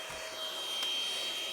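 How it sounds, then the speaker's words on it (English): Kissair cordless vacuum cleaner running in a hard-to-reach spot under furniture, a steady high-pitched motor whine with airflow hiss, continuous and close, with no speech. "this allows you to vacuum in very hard to reach places that a normal vacuum would definitely not be able to get"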